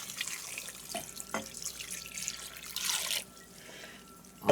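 Two cups of water are poured into a crockpot for a slow-cooker dinner, a quiet steady splashing trickle with a few brief knocks and a louder bump at the end, with no talk.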